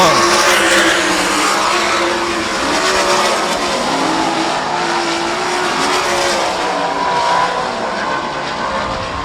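Sprint cars roar around a dirt oval during a heat race, several engines blending into a loud, continuous, wavering drone with pitch sweeps as cars pass through the turns, under a faint announcer-style voice.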